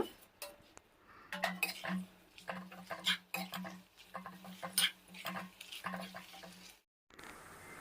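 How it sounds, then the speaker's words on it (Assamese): Chopped banana shoot fries in a pan, with a low sizzle under frequent scraping and clattering of a spatula stirring against the metal, in short irregular bursts. "এতিয়া পচলাখিনি অলপ সময় ভালদৰে ভাজি ল'ব লাগিব।"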